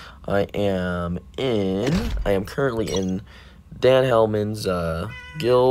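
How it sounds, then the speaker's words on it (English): A house cat meows several times in the background while someone talks over it, the cries brief and drawn out between his words. "that is my cat meowing"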